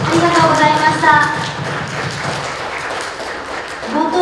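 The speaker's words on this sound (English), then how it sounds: "I would love to ask everybody give a round of applause to our speakers" An audience at a Web3 security summit claps for the panel speakers, applause rising under an ongoing voice and fading as talk continues.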